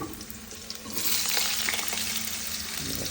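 Food frying in a pan with a splash of water, a steady hiss and crackle that swells louder after the first second and holds, close and alone.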